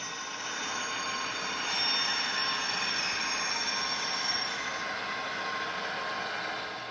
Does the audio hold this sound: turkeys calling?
no